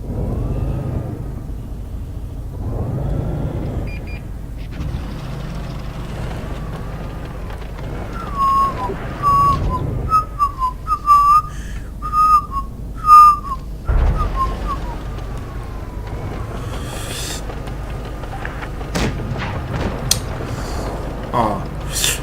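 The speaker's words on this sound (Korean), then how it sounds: "제가 휘파람으로 뭐 좀잘 부릅니다." A melodic whistled tune of short, wavering notes, fairly close, with low background rumble and a few clicks and bumps around it.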